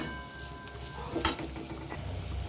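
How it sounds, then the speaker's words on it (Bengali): Bottle gourd peel paste fries in a pan while being stirred, giving a steady low sizzle with soft scraping and one sharp clack midway. "এইভাবে আমি আস্তে আস্তে ধৈর্য ধরে নেড়ে চেড়ে নিয়ে ভেজে নেব"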